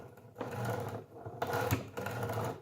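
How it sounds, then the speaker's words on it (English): The sliding mechanism of a Makita LS1216 miter saw scrapes and rubs like metal, making three harsh grinding strokes as the carriage moves back and forth, close and fairly loud. "It sounds bad. And it's something, it's really rubbing. It sounds like scraping metal."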